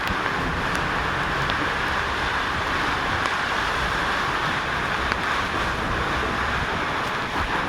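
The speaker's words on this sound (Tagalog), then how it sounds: "sobrang lakas habagat na mga sir pure pure habagat" Strong southwest monsoon storm with steady roaring wind and heavy rain, a dense unbroken rush close to the microphone with occasional faint knocks.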